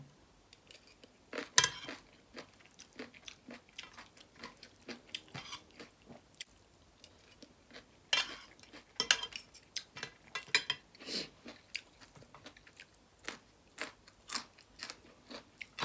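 Crunchy fresh vegetables are chewed up close alongside khanom jeen with chicken-feet curry, Isan style, eaten by hand: repeated sharp, crisp crunches in irregular bursts over quiet background.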